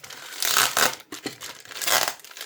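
Tape is peeled and torn from Takara Tomy Beyblade X packaging, giving several crinkly ripping bursts in close succession with brief pauses between them, close and fairly loud with no talking.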